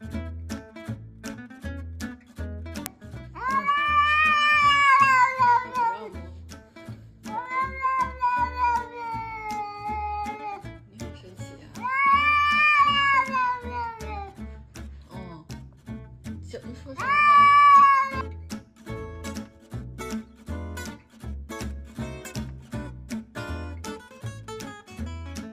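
Several cats meowing in a run of long, drawn-out calls, some rising like caterwauls, heard over a steady rhythmic background music track with no talking.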